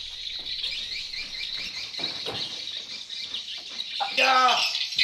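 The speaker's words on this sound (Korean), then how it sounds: "새소리가 한 수천 마리 새소리가 들립니다." A dense chorus of thousands of birds calling at once in Borneo, a constant high chatter, with a few louder descending calls near the end.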